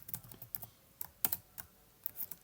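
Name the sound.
typing on a computer keyboard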